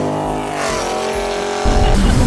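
A Dodge Viper revs hard in a burnout, with a loud, close engine roar and rising harmonic whine that bursts into rougher, louder noise near the end.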